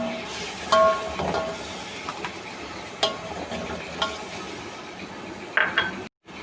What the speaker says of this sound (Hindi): और अब इसमें दही भी डाल देंगे।